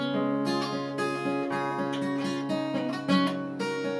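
Played on guitar, a more advanced arrangement of Lavender's Blue rings out as a short run of plucked notes and chords, close and fairly soft, with no voices.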